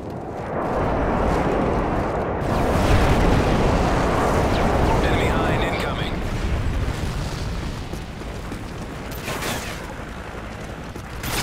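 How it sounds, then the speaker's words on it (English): Enemy airstrike in Call of Duty Modern Warfare 3 multiplayer, a dense roll of booming explosions and rumbling blasts that carries on steadily for about eleven seconds, loud and close, with a brief crackling burst near the end. "Enemy airstrike approaching."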